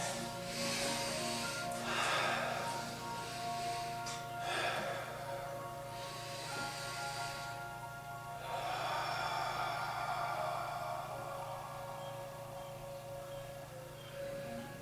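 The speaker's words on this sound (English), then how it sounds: "now just go back to taking a few deep breaths" Slow, deep breaths during a Taoist chakra meditation, several long airy inhales and exhales rising and fading over a steady low hum of background noise, close and unhurried.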